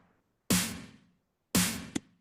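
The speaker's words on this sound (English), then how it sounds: "So this is the 909 snare." Two separate Roland TR-909 drum machine snare hits ring out about a second apart, each a sharp bright crack with a short noisy decay, the second followed by a faint quick tap.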